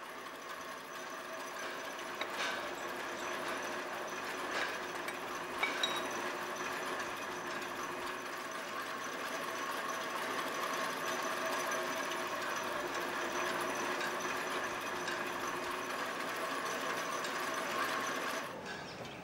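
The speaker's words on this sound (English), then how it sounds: "The pulleys of this shipyard in Manaus have been moving for 110 years." Steady mechanical whirring and rattling of 110-year-old shipyard pulleys and machinery in Manaus running continuously, with a few faint knocks and clicks, fairly close and unbroken throughout.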